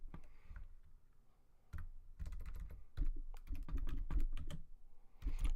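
Typing on a computer keyboard, near bursts of quick clicking keystrokes with short pauses between runs.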